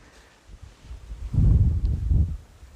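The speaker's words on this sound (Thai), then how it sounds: "ลมพัดสวยมาก" Wind blowing across rice fields in Sam Chuk, Suphan Buri, arriving as a single low, buffeting gust that swells for about a second and then fades, with no voices.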